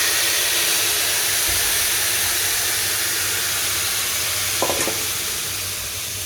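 Hot sugar syrup spiced with cardamom and cinnamon is poured into a frying mixture, raising a loud steady sizzle and hiss with a brief clink of utensils near the end.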